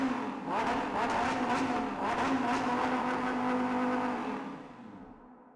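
A Dodge Charger Hellcat's supercharged 6.2-liter Hemi V8 holds a loud, steady droning roar with a strong low hum, then fades away at the end.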